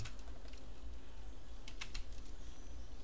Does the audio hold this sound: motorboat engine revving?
no